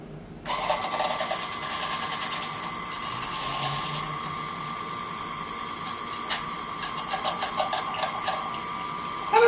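A small whisk attachment mixes food with a steady, close mechanical whir that holds evenly for several seconds after switching on.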